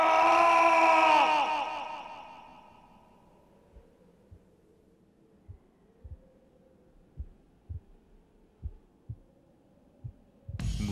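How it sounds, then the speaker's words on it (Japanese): A heartbeat sound effect in a JoJo's Bizarre Adventure drama CD: a swelling tonal hum fades away, then a series of low, muffled thumps grows steadily faster and stronger before a sudden loud burst at the end. "鼓動が息を吹き返し、動脈が生命のビートを刻む。"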